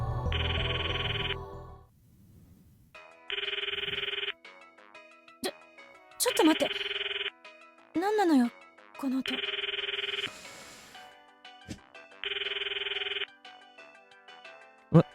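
Mayushi's cell phone ringtone in the Steins;Gate video game, a bright electronic tune ringing in five evenly spaced bursts, with voices and short sound effects in the gaps between rings.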